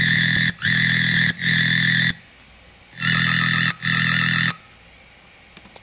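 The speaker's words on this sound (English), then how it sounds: "So I had one layer of bass synths, which was quite a like wall of sound type vibe" Layered bass synths forming a thick wall of sound from a tune, hitting in five heavy sustained blasts of varying length with short gaps, then dropping to a low residual hiss; no talking.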